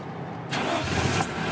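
A Suzuki F6A mini van engine cranks briefly and catches on one try, settling into a steady close idle hum.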